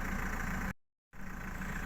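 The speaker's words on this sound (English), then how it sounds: "Obviously you've got the car engine running there" A car engine idles steadily with a low, even rumble, interrupted by a brief dropout of near silence before resuming at the same level, with no talking.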